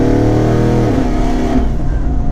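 A twin-turbo 2019 Mustang GT pulling at quarter throttle, a loud close engine drone rising in pitch and then easing off near the end, with no talk.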